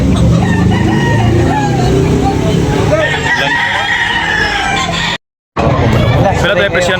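Roosters and chickens at a crowded poultry market in Tabunok, Talisay crow and cluck near and loud among chattering people, with a brief silent break before the clucking and talk resume.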